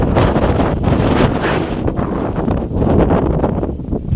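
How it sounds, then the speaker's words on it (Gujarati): Strong wind buffets the microphone in loud, continuous roaring gusts, with no voices. "આ બાજુ પવન શક્તિ એટલી બધી છે"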